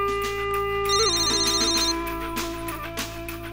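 A mobile phone ringtone plays clearly and steadily, a bright electronic melody with sustained tones, heard close up over a low background hum in an indoor drama scene.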